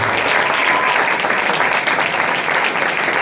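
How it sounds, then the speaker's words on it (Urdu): Loud, sustained applause from a church congregation during an Urdu-language Christian sermon, dense clapping filling the whole stretch with no pauses. "اے خدا ان کے لیے زوردار تالی بجائیں"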